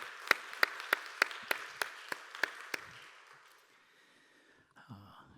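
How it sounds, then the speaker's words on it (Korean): A church congregation at a Korean Sunday youth worship service claps in unison: about ten sharp, evenly spaced claps that grow steadily softer, then fade into a quiet room with a brief voice near the end. "우리 하나님께 영광의 박수 올려드리도록 하겠습니다"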